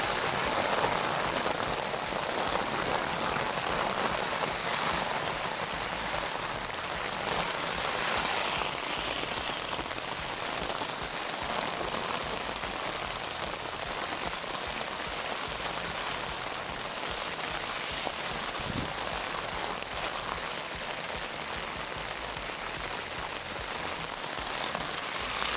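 Steady rain pattering on a tent or nearby surfaces at a wild camp below the Triple Buttress of Coire Mhic Fhearchair, a constant dense hiss with no breaks and no voices.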